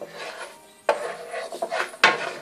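Fresh carrots rubbed against a metal grater for carrot halwa, giving a dry rasping scrape with sharp strokes near one and two seconds, close and fairly quiet, with no one talking.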